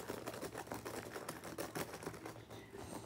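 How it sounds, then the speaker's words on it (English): Quick keystrokes come from someone typing one-handed on a keyboard, a fast, irregular stream of light clicks that stays faint and close. "Look, guys, I'm typing it on one hand. Hey, look how fast I'm typing it."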